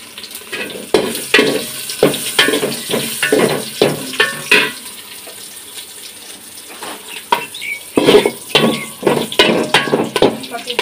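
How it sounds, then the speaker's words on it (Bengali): Whole spices (bay leaves, cloves, cardamom, black peppercorns and cinnamon) tempering in hot oil, giving bursts of crackling sizzle mixed with clattering pot sounds, with a lull midway before the sizzling flares up again. "এর জন্য নিয়েছি তেজপাতা, লং, এলাচ, গোলমরিচ, দারচিনি, এগুলো আমি তেলে বাগার দিয়ে দিব"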